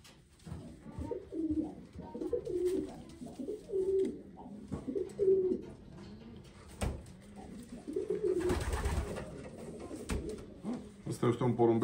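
Racing pigeons coo repeatedly in soft, throaty bursts while they are handled and sorted in a loft before the competition season, with someone talking close by throughout.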